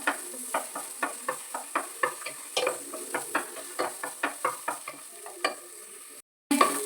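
Onions frying in a pan, a faint sizzle under regular rhythmic scrapes of a spoon stirring against the pan, about two strokes per second, stopping briefly before one last scrape.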